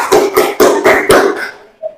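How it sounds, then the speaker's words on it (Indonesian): A high-school chemistry class claps for a presenting group with about six loud, sharp claps in a steady rhythm, the last one trailing off and followed by a brief faint sound. "Tepuk tangan."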